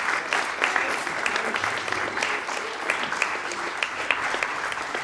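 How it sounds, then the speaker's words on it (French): Audience applauding teachers at a school graduation ceremony, continuous crowd clapping heard from some distance at a soft, even level. "vous pouvez déjà applaudir les autres professeurs"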